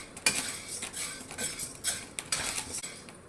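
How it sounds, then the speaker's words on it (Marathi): Sago pearls are dry-roasted in a kadhai for fasting papad, with a spoon scraping and clinking against the metal pan in quick irregular strokes, quiet and close with no voices. "साबुदाणा टाकलेला आहे कढईमध्ये आणि थोडासा भाजून घ्यायचा आहे आपल्याला"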